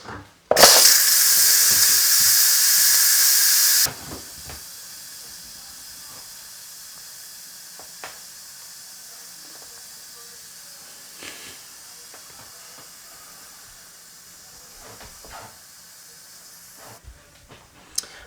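An Instant Pot pressure cooker vents steam on quick release, a loud, steady hiss lasting about three seconds that then cuts off, leaving a quiet kitchen with faint clicks and handling sounds.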